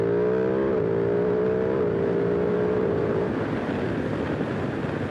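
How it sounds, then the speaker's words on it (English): Aprilia Tuono 660 motorcycle engine at full throttle, a rising rev with a quick-shift dip partway through, then fading into a steadier, quieter rush as it pulls away. "Yeah, so full throttle, gunning it, absolutely perfect. Quick shifting."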